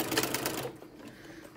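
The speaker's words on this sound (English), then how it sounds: "I'm just going to straight stitch this" Sewing machine running a straight stitch with a walking foot while sewing a cozy cardigan, a quick, rapid mechanical chatter lasting about half a second, then fading to quiet room noise.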